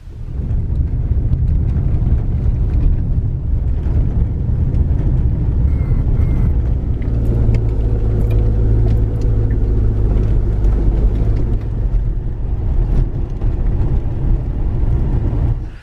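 An SUV rolling along a dirt road, a loud continuous low rumble of engine and tyres on gravel with occasional rattles and bumps, close and steady with no talking.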